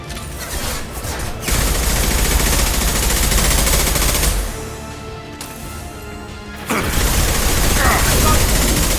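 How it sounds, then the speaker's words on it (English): Rifle gunfire in the video game Mass Effect 2, heard as loud sustained rapid bursts of shots with booming impacts and a brief lull midway. "I love this rifle."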